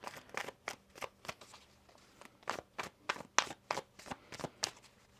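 A deck of tarot cards is shuffled with a run of quick, crisp riffling snaps in an uneven rhythm, close and fairly quiet, with no talking over it.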